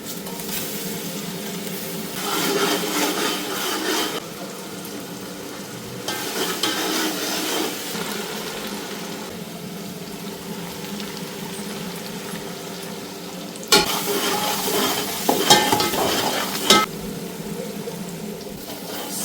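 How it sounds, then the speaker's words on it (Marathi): Ginger garlic paste fries in a pan for a mud crab curry, giving a low continuous sizzle with repeated bursts of louder scraping and stirring, the last burst strongest, and no voices. "त्याच्यानंतर नेहमीप्रमाणे आलू लसूण पेस्ट टाकतोय आपण"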